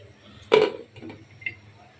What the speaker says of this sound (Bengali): এখন একটা ঢাকনা দিয়ে ঢেকে দেবো